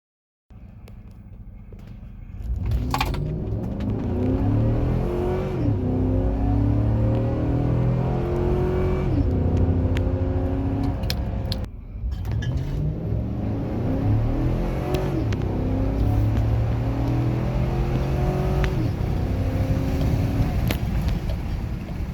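A 6.0 L L96 V8 running on E85 accelerates hard from 0 to 60, its engine note rising steadily through several gear changes, with a brief dip around each shift. The sound is loud and continuous, and no one speaks.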